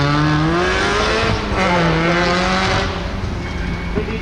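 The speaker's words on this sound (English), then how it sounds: "That's the right stuff, rally car." A rally car at the Lombard Rally, Weston Park, roars past close by at full throttle, its engine note rising and then dropping as it passes. The engine stays loud and dominant throughout, with gravelly tire noise and no talking.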